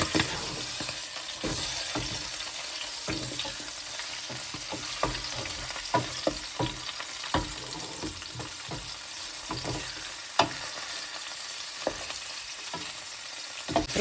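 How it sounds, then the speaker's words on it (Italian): Sardinian lamb braid (sa corda) frying in extra virgin olive oil in a pan, a close, steady sizzle broken by repeated sharp stirring clacks and scrapes. "Metto subito a soffriggere la treccia già bella"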